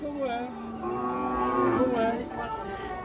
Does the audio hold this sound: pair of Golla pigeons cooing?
no